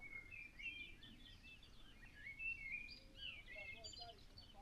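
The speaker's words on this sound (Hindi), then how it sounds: "चिड़ियों की आवाज़ें सुने आप" Birds chirping and tweeting throughout, several high calls overlapping at moderate distance over a soft steady background.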